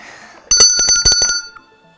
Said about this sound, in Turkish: Ben zili sarı masadan duydum.